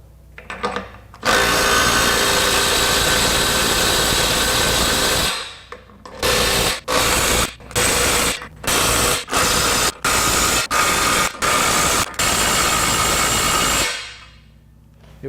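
Cordless sub-compact impact driver, Milwaukee or Ridgid, in speed mode 3 tightening fasteners: one long loud run, then a string of about eight short hammering bursts with brief pauses, ending in another sustained burst before stopping.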